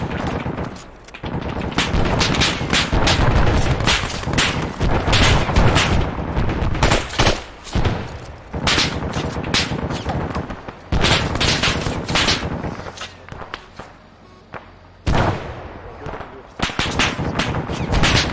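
Heavy gunfire from a CQC training exercise at a compound, with long bursts of automatic fire and scattered single shots echoing loudly, broken by short lulls and sometimes mixed with voices.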